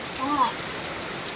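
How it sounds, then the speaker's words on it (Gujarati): The first monsoon rain falls, a soft, steady patter of raindrops on surfaces. A voice briefly speaks over it. "પહેલો વરસાદ આવ્યો ચોમાસાનો"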